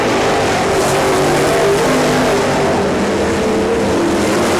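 Race cars, including the orange 7/8 and car number one, battle for position on a track, their engines blending into a loud, steady roar that fills the whole stretch without a break.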